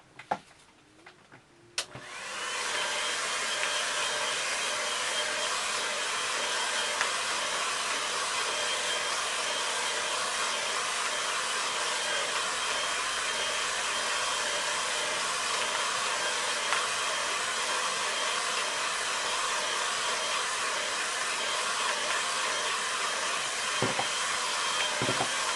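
A hair dryer blasts continuously over a wet watercolour landscape painting, switching on after a couple of seconds of quiet and then roaring steadily and loudly for over twenty seconds with no talking.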